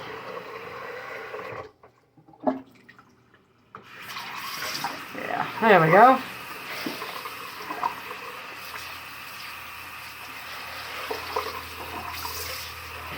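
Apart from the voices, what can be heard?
hot water running into sink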